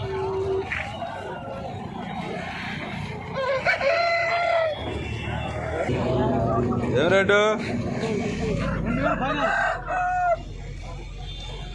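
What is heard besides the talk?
turkey at a country chicken market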